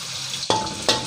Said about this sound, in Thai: ผัดพริกกระเทียมให้หอมครับ